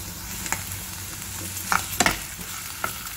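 Masala and pasta sauce cooking in a pan, with a low steady sizzle and several sharp scraping stirs of a spoon, close and fairly quiet, no voices.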